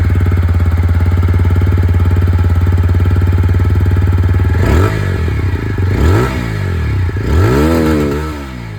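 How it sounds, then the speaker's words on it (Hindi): A motorcycle idles steadily with a fitted bullpup exhaust, then revs sharply three times in the second half, each blip rising and falling loud and close. "जो एग्जॉस्ट साउंड है वो भी मैं आपको सुना दूँ।"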